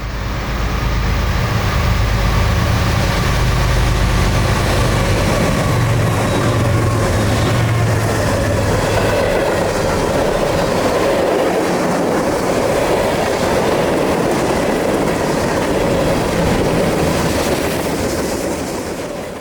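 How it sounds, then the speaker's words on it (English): A Norfolk Southern manifest freight train rolls past close by, northbound on a line with a private crossing, its wheels and cars rumbling and clacking loudly and steadily throughout with no horn sounded. "Flying past us northbound, once again with no horn for a private crossing, is NS-196, Chattanooga, Tennessee to Fort Wayne, Indiana manifest."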